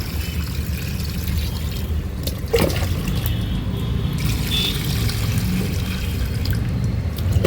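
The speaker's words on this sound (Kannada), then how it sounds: "ಬೆಳಗ್ಗೆ ಎದ್ದು ಪಾಟ್ಗಳಿಗೆಲ್ಲ ನೀರು ಹಾಕ್ತಾಯಿದ್ದೀನಿ" Water pours into plant pots in the morning, a steady splashing gush with a stronger surge partway through, close and continuous for several seconds.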